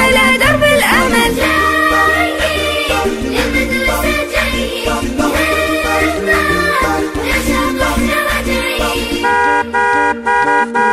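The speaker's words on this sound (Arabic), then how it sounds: "زمر باص المدرسة" A school bus horn honks through a children's Arabic nasheed song, its toots sitting loud within a dense, continuous musical backing with no spoken voice.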